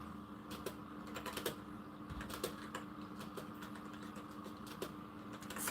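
Irregular clicking of a computer keyboard being typed on, quiet and a little distant, in uneven bursts of keystrokes over a low hum.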